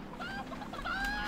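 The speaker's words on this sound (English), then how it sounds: "Wait, there were two chickens." Chicken clucking in the video game Hand Simulator Horror, a few short, faint, close clucks repeating over about a second with no talk.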